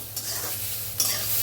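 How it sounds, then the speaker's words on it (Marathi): Cluster beans dry-roasting in a pan over the stove, stirred steadily so they scrape and rustle against the metal under a soft continuous sizzle, with a couple of louder stirring strokes. "गवारी छान अशी भाजून घेतल्या."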